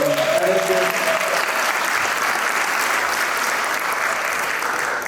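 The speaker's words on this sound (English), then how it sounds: "we'll clap for her" An audience at a school band Christmas concert claps for a band director, a loud, sustained wash of applause with a brief voice heard at the very start.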